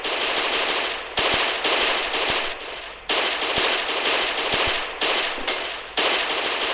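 Rapid gunfire in the video game Last Day on Earth: Survival, loud sustained bursts of automatic shots with brief gaps between strings, alone without talk.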